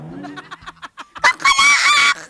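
A rooster crows as a sound effect, preceded by short clucking notes, then a loud, drawn-out cock-a-doodle-doo close to the microphone, heard alone without talk.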